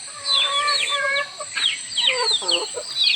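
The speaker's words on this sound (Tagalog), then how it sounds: "Yung mga manok na Bisaya guys or native na manok guys." Native Bisaya chickens cluck and call close by, their repeated clucks and squawks overlapping in a steady farmyard chorus on a provincial farm.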